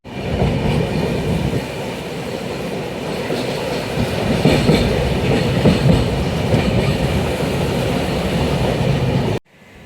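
A train runs on rails with a loud, continuous rumble and rhythmic clickety-clack of wheels that swells midway, then cuts off abruptly near the end. No one speaks.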